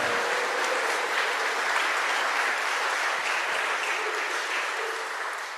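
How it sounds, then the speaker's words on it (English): Steady, dense audience applause at a birthday celebration during a music program, continuous for several seconds and tapering slightly at the end. "Can we give another round of applause for all our birthdays?"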